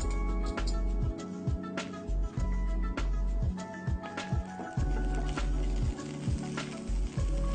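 Cardamom powder frying in ghee for oats pradhaman, a steady close sizzle broken by regular soft stirring scrapes in a rhythmic pattern, with no talking.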